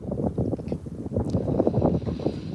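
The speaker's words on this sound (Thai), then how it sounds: "โอ้วันนี้อากาศแบบ ลมแรงมาก" Strong outdoor wind buffets the microphone with a continuous low rumble that swells and gusts unevenly during a walk delivering advertising leaflets in Germany.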